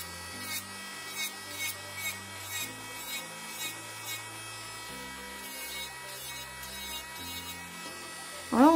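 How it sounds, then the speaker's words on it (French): An electric nail sander whirs in short bursts as it files down a fingernail that grows crosswise, its pitch rising and falling with light pressure changes, fairly quiet and close. "parce que j'avais envie de le faire à la ponceuse"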